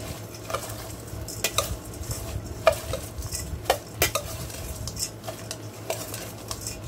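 Chopped, slivered almonds being mixed into a low-carb dish, with rhythmic spoon clinks and scrapes against a pan over a light sizzle, close and without talk.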